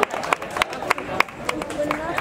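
Audience applause after a Khmer martial arts performance, with hand claps coming in loose bursts amid crowd noise, heard close and fairly loud throughout the short clip.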